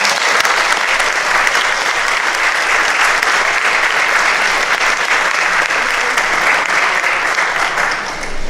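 Loud, sustained applause from a large congregation at the Taizé New Year Mass, dense steady clapping that holds for several seconds before easing slightly at the end.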